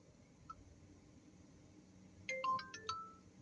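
A phone ringtone sounds while a ride-hailing car driver calls a customer, a short electronic melody of a few tones playing faint and thin over quiet background rumble inside the car.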